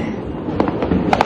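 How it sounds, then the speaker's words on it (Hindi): Diwali firecrackers burst outside, one going off close by and others farther away. Several sharp cracks and pops land unevenly over a dull background rumble, with no talk. "एक पटाखा मेरे सामने और बाकी पटाखे छूट रहे हैं"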